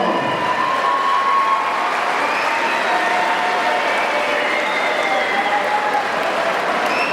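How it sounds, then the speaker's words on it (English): A crowd at a Fight UK combat sports event applauds after a hard-fought three-round contest. The clapping is dense and continuous at a steady, loud level from start to finish. "Let's have a round of applause for both brothers."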